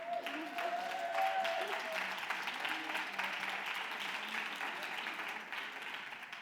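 A seated audience at a science monologue contest final applauds the jury, a steady wash of clapping held at moderate distance, with a faint voice briefly audible near the start.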